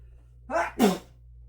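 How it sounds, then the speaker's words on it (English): A single sharp sneeze, a quick intake then an explosive burst, close and loud against a quiet background. "felt like a sneeze was going to come chasing me down"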